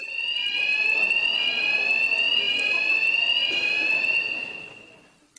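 A fire-alarm-style sound effect plays on a radio show, a loud steady electronic tone with strong harmonics, sustained alone for about four seconds before fading out.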